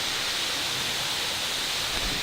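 Steady, full broadband rush of water pouring down the Mele Cascade Waterfalls in Vanuatu, a close, constant roar with no breaks and no voices.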